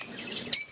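Lovebird chicks in a cage give a single brief, thin, high chirp near the end, rising over a faint, steady background hiss.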